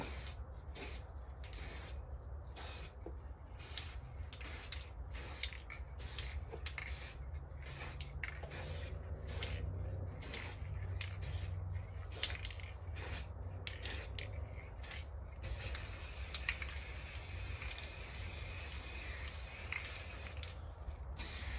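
Spray paint hissing onto plastic hubcaps in repeated short bursts, close and fairly quiet, giving way to a longer continuous spray near the end, with no speech.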